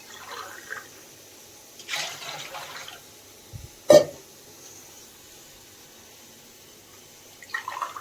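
Three glasses of water are poured into a pot for ragi mudde, heard as short, soft splashes spaced a few seconds apart in a quiet kitchen, with no talk.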